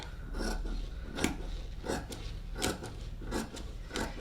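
Scissors cut fabric pieces for a sports bra in a series of crisp, rhythmic snipping strokes about every half second. The cutting is close but quiet, and no one speaks.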